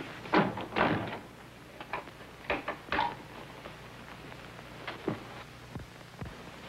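Door handling and lock sounds from a radio drama: a few close clicks and knocks, then fainter rattles and taps in a quiet room.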